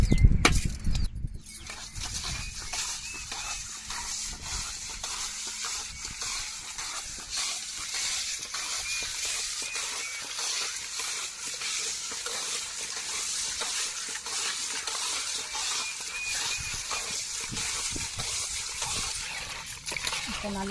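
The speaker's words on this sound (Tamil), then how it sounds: "இப்போ கல் உப்பு போட்டு உரசி சுத்தம் செஞ்சுட்டு தான் நான் அடுப்பில் அவிக்க போகிறேன்." Parrot fish being scrubbed with coarse rock salt by hand, a steady wet gritty rubbing and splashing that runs throughout at close range, with a voice talking over it.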